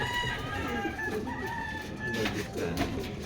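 A gamecock rooster at a training yard in Tiaong, Quezon crows once in a drawn-out call, fairly near and moderately loud, with clucking fowl and low background voices around it.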